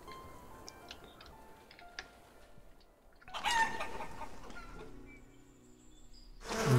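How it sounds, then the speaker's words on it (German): Chickens in the medieval village-building game Life is Feudal: Forest Village, giving scattered soft clucks and a louder burst of squawking partway through, over a quiet game ambience. "Fünf Hühner."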